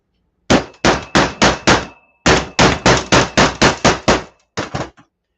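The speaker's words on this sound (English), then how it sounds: "Hammer." Hammer striking copper, sharp ringing metallic clangs in two quick bursts of six or seven even blows each, then two lighter taps, loud and close in a quiet outdoor setting with no talk.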